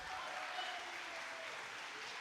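An audience at a flamenco show applauds, a steady, fairly distant wash of clapping that holds evenly throughout with no standout voices.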